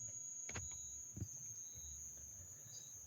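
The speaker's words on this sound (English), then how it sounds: "It's probably the crickets. Yeah, that's like all I can hear right now is the crickets." Crickets keep up a steady, high, thin hum that runs unbroken through the whole stretch, with a few soft low thumps and faint chirps under it and no voices.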